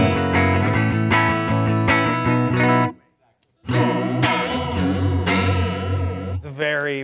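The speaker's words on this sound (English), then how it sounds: "designed to go through a flanger pedal. It's very like 90s sounding" A strummed electric guitar chord through a Fender flanger pedal rings out with a swirling, sweeping 90s rock effect, broken by a brief pause before more chords ring on, loud and close.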